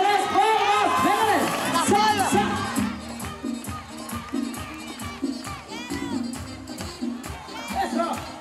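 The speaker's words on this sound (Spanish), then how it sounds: "¡Que se escuchen las palmas!" A crowd at a national clown day celebration cheering and clapping, loud rhythmic palms and shouting voices from a large gathering of people.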